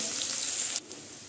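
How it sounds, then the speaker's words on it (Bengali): Sliced onions sizzle steadily in hot oil and butter in a pan, a close hissing fry that softens abruptly partway through. "তেলেই দিয়ে দিচ্ছি আমি পেঁয়াজ,"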